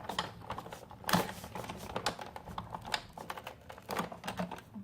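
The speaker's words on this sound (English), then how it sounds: "Then I'm going to run it through the Big Shot." A Big Shot die-cutting machine cranking a Christmas card and cutting pad through, giving a quick, irregular series of close clicks and ratchety clatter with no talk.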